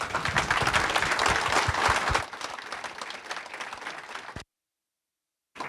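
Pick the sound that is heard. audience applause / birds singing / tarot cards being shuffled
audience applause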